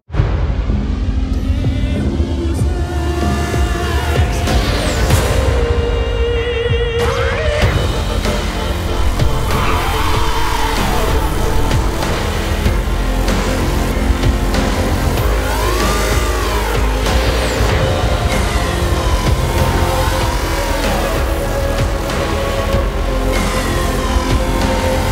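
A BMW M5 engine revs hard while the car slips and tries to drift on a wet, rainy surface. The engine note rises and falls again and again under a steady loud roar of tyres and spray.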